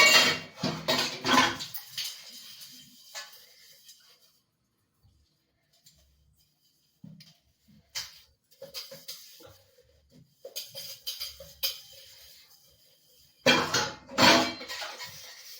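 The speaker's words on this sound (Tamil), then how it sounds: "ஓகே, பாத்திரத்தை கழுவ ஆரம்பிச்சிடலாமா?" Clattering dishes, pots and pans in bursts, with clinks and knocks separated by quiet pauses, close by and fairly loud at the start and end.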